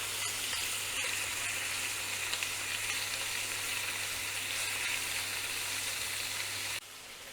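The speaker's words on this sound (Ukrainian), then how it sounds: "М'ясо смажиться" Smoked pork fat sizzles in a pan with meat frying in it, a steady, dense crackling hiss close by that runs unbroken and drops slightly quieter near the end.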